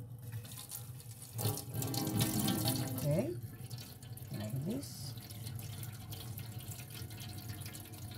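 Tap water runs into a sink while a doll's hair is washed, a steady broadband wash that swells briefly near the start, with a person speaking over it.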